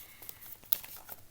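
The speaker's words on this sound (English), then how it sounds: "So I'm going to shuffle my cards a little bit more" A deck of cards being shuffled: a short, soft riffle of papery crinkling and flicks, close and quiet.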